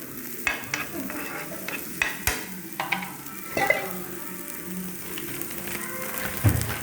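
Ingredients for a chutney being dry-roasted in a pan, with dried red chillies about to go in; sharp spatula scrapes and stirring clicks recur over a soft, steady sizzle, close and moderately loud, with no talking.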